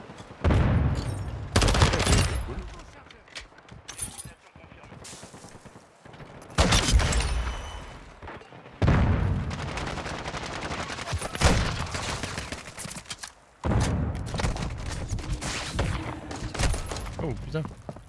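Bursts of shotgun blasts and automatic gunfire in the video game Modern Warfare 2, loud clustered volleys separated by quieter gaps, with a player talking over the action.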